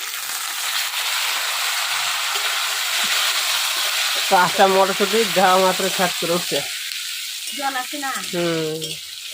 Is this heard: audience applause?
no